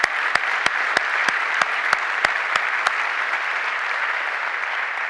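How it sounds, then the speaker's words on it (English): Audience applause at a service celebration ceremony, a steady bed of many hands clapping with several sharp, louder individual claps standing out near the front in the first few seconds. "Big round of applause for them."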